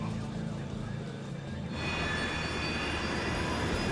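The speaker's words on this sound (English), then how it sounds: "The crew is preparing the plane for takeoff." Jet engines on an American Airlines airliner on the ground before takeoff roar steadily and loudly, the tone rising into a broader, stronger whoosh midway through as the engines spool up.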